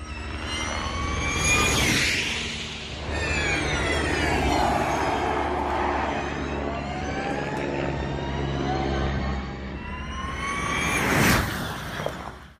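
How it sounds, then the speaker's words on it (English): A helicopter flies over the Nürburgring Nordschleife, its steady turbine whine and rotor drone rising and fading. A high-pitched electric race car, the Volkswagen ID.R, passes loudly on the circuit as well. "Only thing that can keep up with it is a helicopter that you can hear here."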